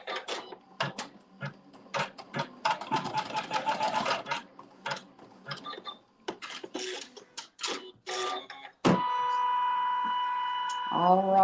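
A sewing machine stitches fabric during a quilting workshop, running in bursts of fast, rhythmic mechanical clatter mixed with talk, then settles into a steady hum near the end.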